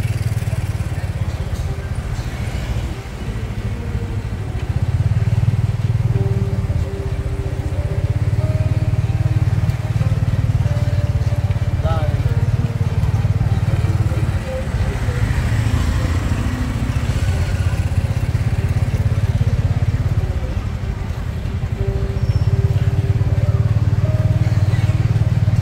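A tuk-tuk with no suspension rides over a bumpy road in Phnom Penh, its small engine droning steadily and close, swelling and easing as it travels.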